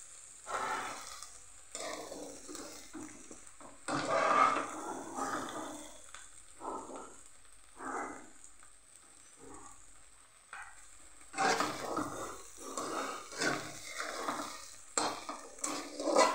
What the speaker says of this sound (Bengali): ভালো করে দেখো নেড়ে চেড়ে নিচ্ছি আমি।